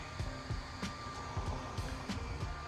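A small portable waist fan on level 5 whirs faintly with a steady airy hum and a light rhythmic ticking, quiet and close, with no talking.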